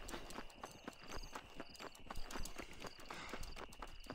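Horse hooves clip-clopping in Red Dead Redemption, a steady rapid gallop of repeated sharp hoof strikes carrying on throughout, close and fairly loud with no voices over them.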